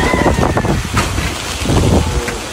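Strong gusting super typhoon wind roars and buffets the microphone on a farm, a loud continuous rush with surging bursts.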